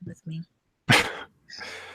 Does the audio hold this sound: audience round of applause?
no